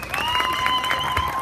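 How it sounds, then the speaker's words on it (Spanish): A crowd at an outdoor music contest finals in Plaza Héroes del Chaco applauds a finalist, a short burst of dense clapping with some cheering, while a voice talks over it. "Aplausos a nuestro concursante."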